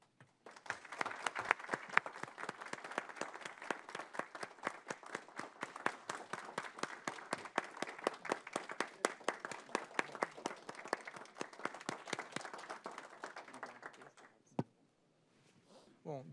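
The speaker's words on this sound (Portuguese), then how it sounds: "peço licença aos senhores para pedir uma salva de palmas aos diretores que cumpriram o seu mandato" A room at a public meeting of Brazil's electricity regulatory agency claps for outgoing agency directors, a steady run of individual hand claps from a modest group lasting about fourteen seconds before tapering off abruptly, with a few faint voices underneath.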